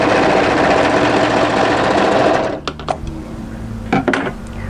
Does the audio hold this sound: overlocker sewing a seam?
yes